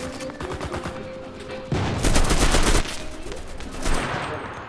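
Gunfire in the online shooter CRSED, Holiday Brawl mode: a dense rattle of rapid shots that swells into a louder, heavier burst midway, then continues at a steady clip with a few sharper reports near the end.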